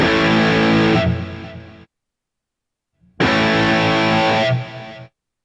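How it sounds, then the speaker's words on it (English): An electric guitar chord rings out with delay and reverb, then is abruptly cut off by a volume pedal, leaving silence before a second sustained chord is played and killed the same way. "This time I'm going to let the chord ring and stop it. And then pull the volume pedal off."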